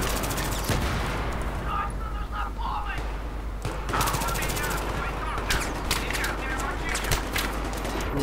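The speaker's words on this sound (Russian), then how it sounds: "Это самый медленный, самый долго перезаряжающийся и самый косой пулемет." Machine gun fire in Battlefield 3 from a slow, long-reloading, inaccurate Type 88 light machine gun, with dense bursts of shots running continuously under a steady game soundscape and someone talking over it.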